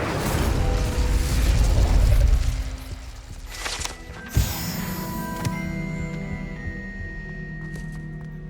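An Incendio fire spell cast in Hogwarts Legacy erupts as a sharp, close burst, with a heavy rumbling whoosh before it and a ringing, shimmering tail after, over steady game ambience.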